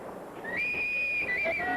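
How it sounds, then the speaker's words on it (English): A police whistle blows at a busy traffic crossing amid street noise, a sustained shrill tone of about a second with a brief second blast at the end, fairly close. "the police whistle and accompanying crowd surge gave McCabe his cue to cross"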